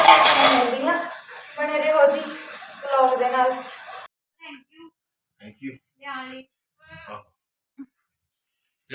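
Dishes clink and clatter at a sink during washing, a few scattered knocks of pots and cutlery after someone talks close by at the start.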